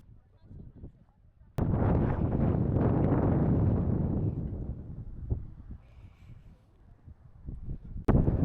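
Strong wind gusts buffet the microphone high in the Caucasus mountains near Mount Kazbegi, a loud rushing roar that swells, then eases into a lower, steadier blow.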